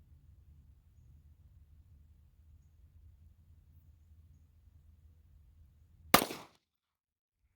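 A single sharp 9mm pistol shot from a S&W SD9VE firing Winchester Ranger 147 grain ammunition cracks out loud and close after a stretch of quiet low outdoor hum.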